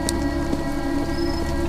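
Steady, dense rain in a Roblox fishing game plays as a continuous loud hiss with a low rumbling layer beneath, unbroken throughout and with no voices.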